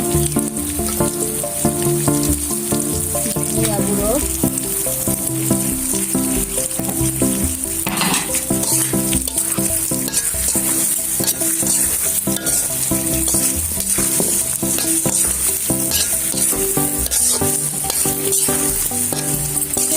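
Ground spices stirred into mango pickle frying in a pan, a continuous close sizzle with scraping spoon strokes against the pot throughout.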